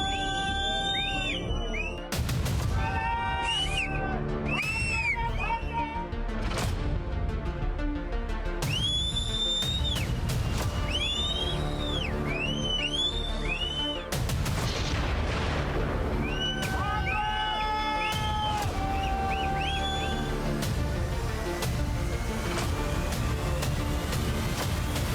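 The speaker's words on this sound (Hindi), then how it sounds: "खीर गंगा का खौफनाक सैलाब, सीटी बजने की आवाज, चीख पुकार" Sharp, repeated whistles ring out over a continuous loud roar with booming bursts, during the Kheer Ganga flash flood and cloudburst in Dharali, Uttarakhand, with shrill cries mixed in throughout.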